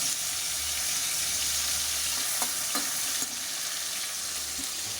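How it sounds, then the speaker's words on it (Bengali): Bata fish frying in hot oil gives a steady, close sizzle and crackle that runs unbroken throughout, with a few faint clinks and no voices. "এখানে পাশে বাটা মাছ ভাজা হচ্ছে"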